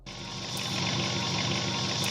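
Steady engine drone from a collectible figure or toy sound effect, continuous broadband rumble holding loud and even throughout without talk.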